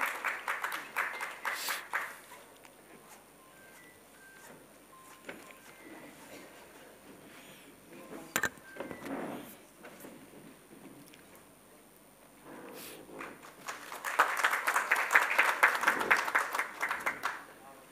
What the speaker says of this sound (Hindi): तालियां बजाकर स्वागत करें, अभिनंदन करें।